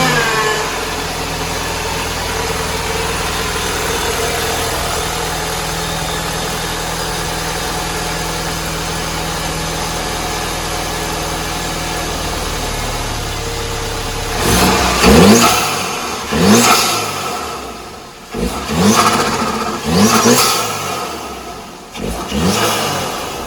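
An Audi A5 B8.5 fitted with an MST intake idles steadily at first, then the engine is blipped in a series of sharp revs that rise and fall, the intake noise loud and close.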